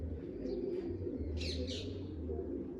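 Large pigeons being hand-dyed in colours coo softly in a low continuous murmur, with a couple of brief brighter chirps rising above it midway.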